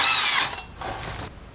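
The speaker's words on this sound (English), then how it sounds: "It's a bit trickier holding the drill with one hand." A power drill, held in one hand, bores holes during a lawn tractor drive belt job: a loud, high whine for under half a second, then two shorter, quieter bursts of drilling close up.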